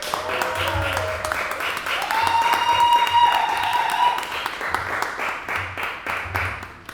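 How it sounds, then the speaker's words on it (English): A comedy club crowd claps steadily for several seconds as a comedian takes the stage, with whoops and a long whistle rising above the applause, and a low beat thumping underneath. "Please start making some noise for Mr. Pat Wilson."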